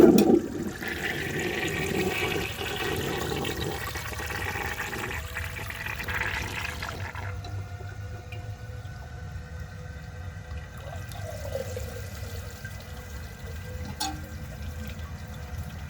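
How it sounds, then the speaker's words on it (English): A 1930 Eljer Sanus toilet giving a partially clogged flush: loud rushing swirl up close that cuts off sharply, then quieter trickling and dripping as the bowl slowly drains. "And there's another partially clogged flush for you,"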